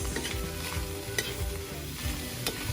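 Carrots get stirred into igado in a pan while cooking outdoors, with a steady sizzle of frying under repeated scraping, clattering strokes of the utensil, close and fairly quiet.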